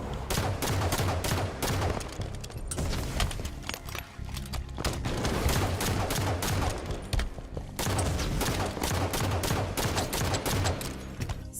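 Dense, continuous gunfire from the shooter game Halo Infinite, with rapid shots and bursts layered over booming grenade-like explosions, loud and sustained, with a few brief lulls.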